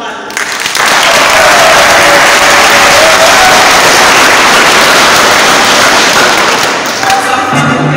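A church congregation at a thanksgiving Mass bursts into loud, dense applause for the choir, sustained for several seconds before easing slightly near the end.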